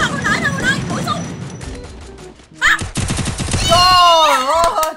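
Gunfire in the Free Fire video game, sharp bursts of shots in quick clusters mixed with game effects and bright synthetic tones, while people chatter over the action.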